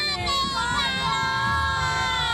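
A large crowd at a Hong Kong New Year countdown, families among them, fills the scene with dense chatter, children's shouts and cheering, a busy, close wash of many voices.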